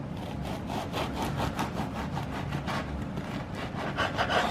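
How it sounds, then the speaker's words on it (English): A knife saws back and forth through a whole loaf of bread, cutting it diagonally into thick slices, a steady rasping rhythm of close strokes with no talking. "When we're cutting our bread, we're gonna cut it diagonally."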